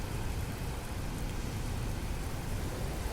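Steady rain pours down outside accommodation in Dubai, a soft, even hiss of drops on surfaces that continues without pause and with no voices.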